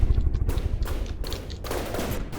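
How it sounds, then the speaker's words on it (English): Heavy gunfire from P-51 fighter planes strafing a Focke-Wulf in the naval combat game From The Depths, a dense, continuous fusillade of rapid booming shots with thumping low-end impacts, loud and close, no speech. "That's some pretty heavy gunfire"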